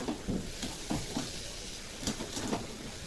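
Diced potatoes fry with spices in a pan as they are stirred, giving a faint background sizzle punctuated by soft, irregular scraping and clinking strokes.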